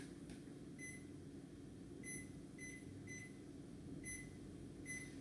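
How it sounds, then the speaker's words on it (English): Oven timer being set, a series of short electronic beeps, six sharp chirps spaced irregularly over about five seconds, faint over a steady background hum, with no talk over them. "I'm going to set my timer."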